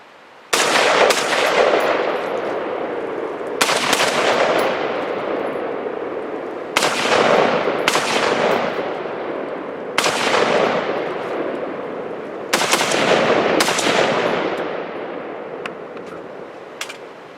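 A Beretta ARX100 rifle fires at an outdoor range, five or six sharp loud shots in pairs and singles, each echoing away before the next.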